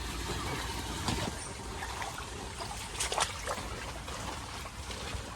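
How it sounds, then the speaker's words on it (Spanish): Floodwater runs steadily past a house flooded by a big storm in El Salvador, a continuous close rushing and trickling wash with a few brief splashes and no talk. "ahí va fluyendo el agua ya"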